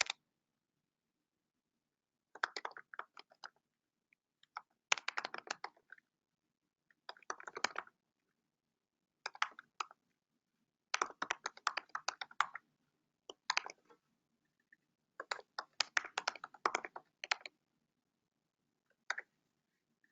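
Computer keyboard typing as an Office 365 password is entered, with bursts of quick key clicks separated by short silent pauses, close and quiet, no voices.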